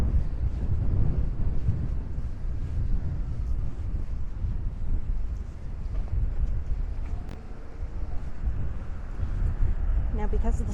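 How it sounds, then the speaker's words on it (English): Strong gusty wind buffets and roars across the microphone continuously, loud and close, with faint background sounds underneath. "Whew, windy, windy."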